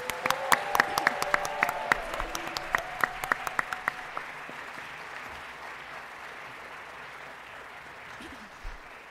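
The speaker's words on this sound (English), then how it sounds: "Let's give our student designers a round of applause." A crowd at the Stevenson University 2024 fashion show applauds the student designers with bright, sharp claps for about four seconds, then the clapping stops and quiet hall noise remains.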